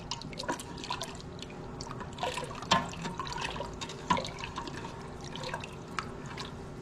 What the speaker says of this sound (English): Stirring the salt real good.